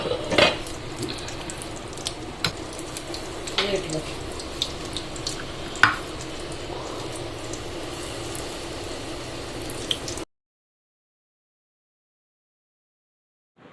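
Gram flour and yogurt pakoras fry in hot oil with a continuous close sizzle and occasional clinks of utensils against the pan, then the sound cuts off to silence.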